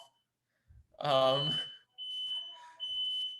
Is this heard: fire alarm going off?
yes